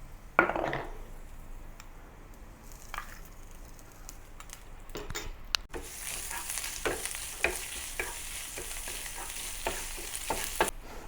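Ginger and garlic sizzle and fry in a pan while being stirred. After a brief utensil clink, the frying grows louder and brighter about halfway through, with scraping stirs repeating close up and no talking.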